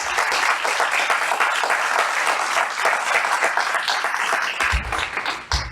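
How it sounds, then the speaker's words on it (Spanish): A live congregation applauds inside a church with sustained, dense clapping from many hands. The applause fills the room evenly before thinning out near the end. "Que conste que fue un aplauso en vivo y no es una pista."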